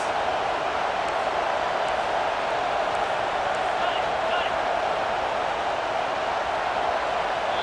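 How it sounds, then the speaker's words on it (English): A simulated stadium crowd in EA Sports College Football 25 roars as a steady, dense wash of noise during a false start, with commentary voices running over it. "And with this place rocking, the crowd forces a false start."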